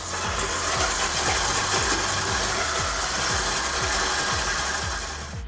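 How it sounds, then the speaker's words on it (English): An electric mixer beats butter and sugar for a cake, its motor whirring steadily with a repeating rhythmic churn as the beaters turn through the mixture, loud and close throughout. "beating your butter and your sugar together for a little while before you put all the other ingredients in"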